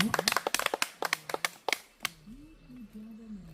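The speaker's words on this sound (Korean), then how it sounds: "우리 박사님도 박수 한 번 크게 주시고." A small audience at a Korean trot singing performance claps in a quick burst of sharp, close hand claps lasting about two seconds, after which a voice speaks alone.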